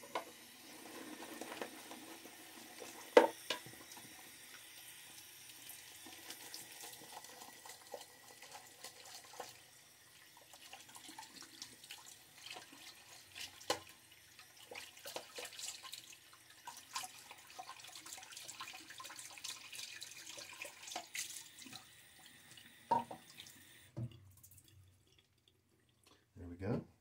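A tap runs while a shaving brush is rinsed at a sink, making a faint, continuous splashing rush with occasional clinks and drips that stop near the end.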